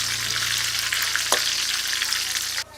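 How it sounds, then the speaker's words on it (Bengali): Raw banana chips frying in oil over low heat, with a dense continuous sizzle close up, occasional stirring scrapes and a sudden drop in level at the end. "অল্প আঁচে কলার চিপসগুলো ভাজতে হবে।"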